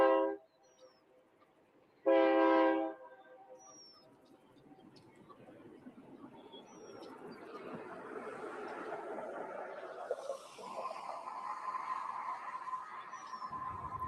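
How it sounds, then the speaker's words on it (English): Union Pacific coal train rolling past on a triple-track mainline, two loud horn blasts at the start followed by a long, steady rumble and clatter of cars that builds and stays loud to the end. "So here comes the coal train."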